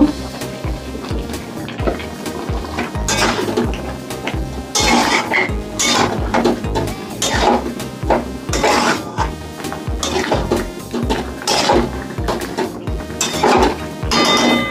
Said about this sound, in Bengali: এবার বন্ধুরা আমি এই চিকেনগুলোকে ঢেলে দিলাম, মশলার সঙ্গে কষিয়ে নেব।